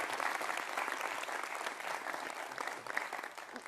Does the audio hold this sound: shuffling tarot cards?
no